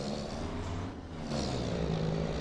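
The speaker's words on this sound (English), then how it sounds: "This truck sounds really nice" A truck engine in a farm simulator game hums with a steady low drone and holds constant through a short stretch. A brief dip in level comes midway, then the engine returns at moderate loudness with no talk over it.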